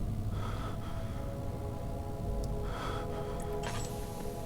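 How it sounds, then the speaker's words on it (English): Daniel, the character in the horror game Amnesia: The Dark Descent, breathes heavily in a few ragged bursts over a steady, droning game ambience with no speech. "you can hear Daniel breathing heavily"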